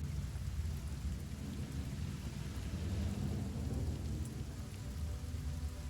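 Spell-cast rain from the video game Divinity: Original Sin, a steady full downpour with low rumbling like thunder, continuous and loud, without talk.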